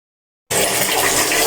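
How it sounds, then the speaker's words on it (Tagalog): Water in a clogged toilet bowl starts abruptly after a brief silence, a steady, close, loud rushing and gurgling wash that continues without pause. "mabagal po ang pagbaba ng tubig niya"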